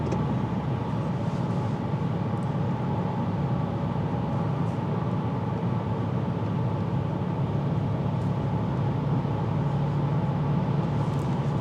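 A 2025 Subaru WRX tS cruising on the highway, a steady low road and engine drone with constant tire rumble, heard from inside the cabin with no talking.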